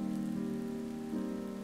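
Rain pours from a rain cloud in the video game Sizeable, a steady dense hiss of falling drops with a low tonal hum underneath, even and unbroken, no talking.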